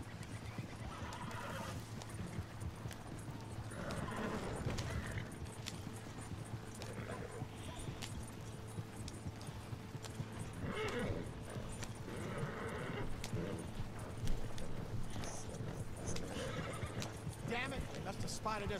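Horses neigh and whinny amid clip-clopping hooves as riders gallop out in Red Dead Redemption 2, the steady hoofbeats running throughout with repeated whinnies rising above, while voices talk over the action.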